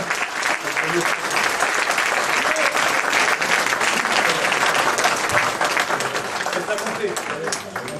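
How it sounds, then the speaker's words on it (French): A hall crowd applauds a French judo champion at a town's New Year ceremony in Pussay, with steady, dense clapping that stays loud and sustained throughout. "Donc vous pouvez encore l'applaudir"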